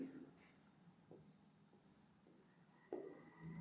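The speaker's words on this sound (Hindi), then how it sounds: "तो लिखेंगे" Pen or marker writing by hand during a math lesson on surface area and volume of cylinders and hemispheres, with scratchy strokes in short bursts under soft background noise.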